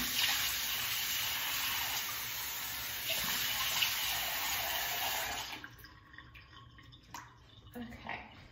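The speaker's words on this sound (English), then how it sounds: "I'm just gonna give my face another quick rinse to make sure all that's off." Tap water runs steadily into a sink as a face is rinsed, a loud continuous hiss with a few splashes, then the flow stops and leaves faint drips and handling noises.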